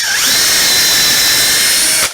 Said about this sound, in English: I'm just going to drill it.